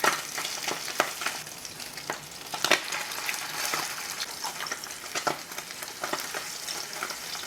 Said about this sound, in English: So you fry until it's brown and it has a lightly crust on one side